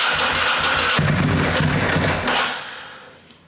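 A Ducati 996 motorcycle engine cranks and catches roughly, running unevenly with its throttle bodies out of balance, loud and close before fading toward the end.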